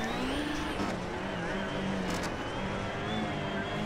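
A Hyundai i20 WRC rally car in the Richard Burns Rally video game drives with a steady engine drone, its suspension knocking against the bump stops over rough ground, accompanied by occasional higher whines.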